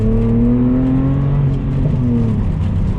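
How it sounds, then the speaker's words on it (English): A BMW Z4 engine blips sharply during a rev-matched downshift from third into second, loud and close, the pitch swooping up then settling back to a steady drone as the car continues. "third into second, blip the throttle, perfect downshift"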